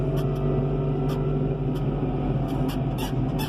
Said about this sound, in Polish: Ciągnik jedzie.